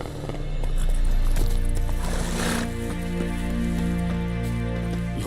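Roach the horse in the video game The Witcher 3: Wild Hunt, heard as hoofbeats and a neigh over steady game ambience and music, close and fairly loud.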